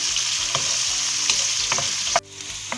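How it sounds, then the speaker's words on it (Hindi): Onion sautéing lightly in a pan for an aloo baingan achari salan, a steady close sizzle broken by several soft scraping stirs, cutting off abruptly near the end, with no talk. "प्याज को हम हल्का सा सौते करेंगे, हमें ब्राउन नहीं करनी है प्याज को"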